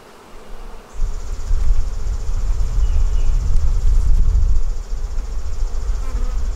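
Honey bees swarm and buzz loudly during a bee barn hive inspection, a dense close drone that swells suddenly after a quieter start and holds steady before easing slightly near the end.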